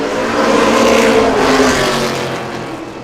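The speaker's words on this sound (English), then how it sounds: "They're going to drag race down the back straightaway, Chris." Street stock race cars roar past on a dirt-track oval during an opening night race, engines revving loudly as the pack drags down the back straightaway, swelling then fading over about three seconds.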